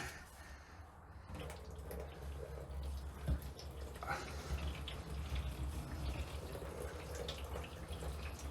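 Garden hose spraying water over a car fitted with a 1UZ V8 and ceramic coated exhaust, a steady rushing hiss running the whole time after a brief quieter start, with low background rumble.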